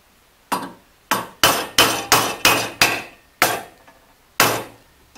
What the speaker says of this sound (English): Now we've got here our setter and mallet.